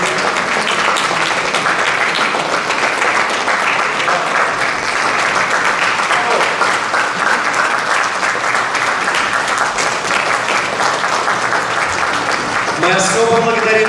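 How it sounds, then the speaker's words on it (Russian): Sustained, loud audience applause after a contemporary music performance by a Moscow Conservatory soloists' ensemble at a composition competition. The dense clapping carries on steadily for about fourteen seconds, with a voice speaking over it near the end. "эти аплодисменты вам"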